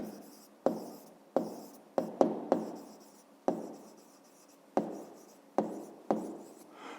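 Handwriting during a 5th-grade math exercise, likely pen on paper: a series of about eight short scratchy strokes, each starting sharply and trailing off, close and fairly quiet with no talking.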